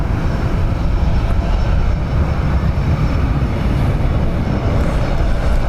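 An Aer Lingus airliner takes off at Dublin Airport, a loud continuous roar of jet engines with a broad rumble, steady throughout and heard close.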